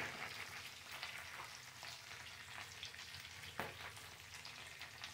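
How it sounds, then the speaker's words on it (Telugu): Cashews, curry leaves and dry red chillies fry in oil as a tempering for pulihora, giving a steady, soft, even sizzle with no talking. "జీడిపప్పు, కరివేపాకు, ఎండుమిర్చి అన్ని తాలింపు దినుసులు వేసుకుని చక్కగా ఫ్రై చేస్తున్నాను"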